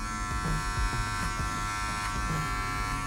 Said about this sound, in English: Wahl magic clips